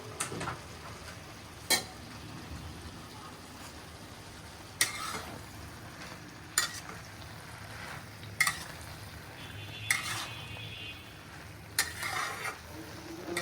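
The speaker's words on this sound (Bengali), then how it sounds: "এখন পুঁই শাক এই মিশ্রণটার সাথে ভালো করে মিশিয়ে নিতে হবে।" Malabar spinach being stirred into a dried fish mixture in a pan, with a soft background sizzle and a spatula scraping and clanking against the metal at steady intervals of about two seconds.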